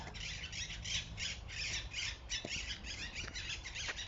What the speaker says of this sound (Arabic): الأصوات ديال العصافير،